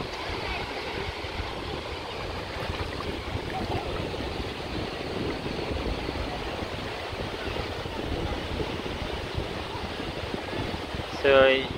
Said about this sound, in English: it's a very good atmosphere here in Ballyheigue beach, County Kerry, Ireland